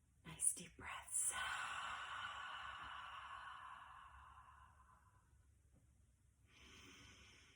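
Slow, deep breathing up close: a long airy inhale and an extended, gradually fading exhale, soft and hushed, then another quiet breath begins.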